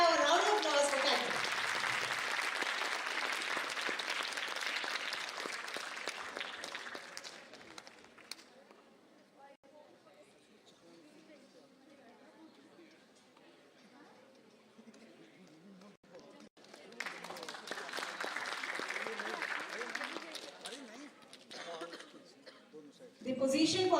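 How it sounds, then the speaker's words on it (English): Conference audience applauding the second runner-up in an oral presentation competition, clapping strong at first, fading to a quiet lull with murmured talk, then swelling again before the end. "May we have a round of applause for Kaito."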